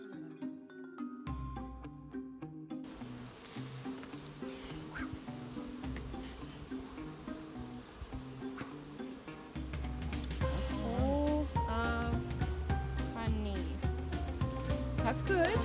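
A honeybee colony in an opened hive, checked for brood ahead of winter, gives a steady, dense insect hum that holds through the whole stretch. It swells louder near the end, with a few faint background sounds mixed in.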